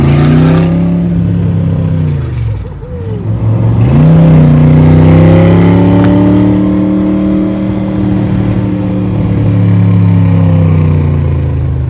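Loud engine of a Shelby Cobra replica heard from inside the car as it accelerates, rising in pitch, dropping briefly on a gear change or lift off the throttle, then pulling again with a steady, throaty drone.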